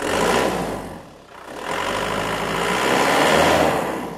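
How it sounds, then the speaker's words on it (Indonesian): A diesel engine in a 2016 Isuzu Panther Grand Touring revs loud and close, dipping briefly before rising again into a sustained rough, rumbling roar with no talking. "Dikasih gas, biar teman-teman dengar suara diesel"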